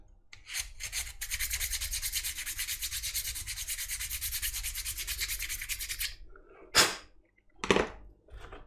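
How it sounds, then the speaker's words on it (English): A hand file rasps back and forth across the drilled edge of a wooden part for a home-built 737 cockpit simulator: a long, loud run of rapid scraping strokes, then a pause and two short separate strokes near the end. "what I'm going to do is just run the file through just to clean up that drilled edge of the wood"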